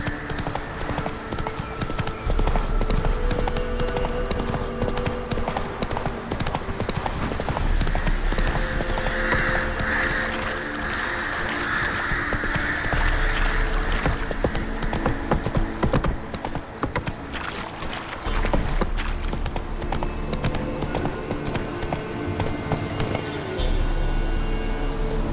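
Roach the horse gallops in The Witcher 3: Wild Hunt next-gen update, a loud continuous run of rhythmic hoofbeats close up, backed by in-game music and ambience, with no talk over it.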